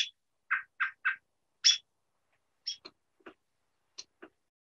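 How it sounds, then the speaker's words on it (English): California quail calls: a series of short, distinct chirped notes spaced irregularly, some in quick triplets, clear and fairly faint against a quiet background. "California quail"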